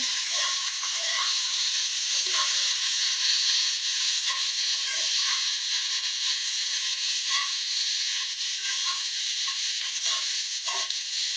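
Halved green chillies roast in a hot pan for a Maharashtrian pickle, giving a loud, constant sizzling hiss dotted with faint clicks of stirring.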